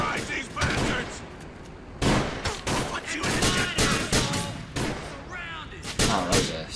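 Gunfire from the GTA IV: The Lost and Damned video game, with repeated close, loud shots and bursts running throughout alongside intermittent voices talking over the action.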